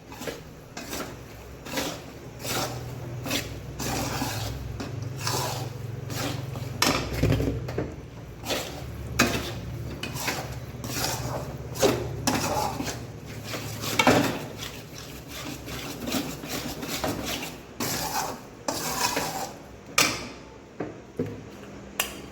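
Jaggery being stirred into a mixture in a pan for sukhdi, with a steady run of scraping and clinking of a utensil against the pan, close and moderately loud, no talking.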